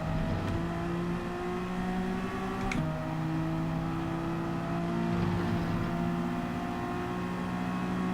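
A Group 4 race car with a Mazda engine drones at Interlagos in Gran Turismo 7, a sustained steady engine tone that shifts pitch briefly partway through, alongside other cars' engines at a moderate level.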